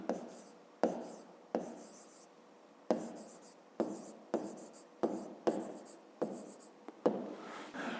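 Pen strokes on paper scratch out in short bursts as someone writes by hand while working through a fifth-grade maths division exercise, close and clear, with a voice speaking faintly between strokes.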